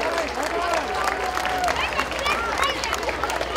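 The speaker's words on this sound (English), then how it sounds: "let's give our Little Miss and Mister a big Oktemberfest round of applause" A crowd at the Oktemberfest Little Miss and Mister contest claps steadily, a dense even patter of many hands with a few cheers mixed in, carrying on throughout with voices audible under it.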